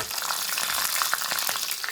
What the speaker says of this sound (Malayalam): വെളിച്ചെണ്ണ ചൂടായിട്ടുണ്ട്. ഞാൻ കടുക് ഇടുവാണ്.